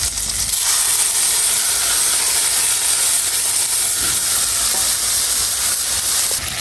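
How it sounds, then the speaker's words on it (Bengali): Cumin and lentils hit hot oil along with chopped onion and green chilies, producing a loud, continuous hissing sizzle close by that holds steady from start to finish, with no voices over it. "দেবো একটু জিরা, এবার দেবো ডালটা।"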